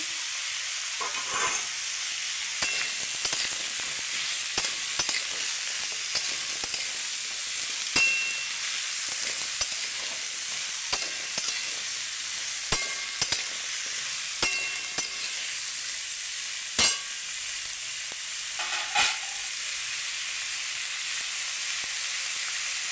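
Drumsticks and pumpkin frying in a pan with green chillies, a constant hissing sizzle running throughout, dotted with irregular light clinks and scrapes of a utensil, close and steady with no talking.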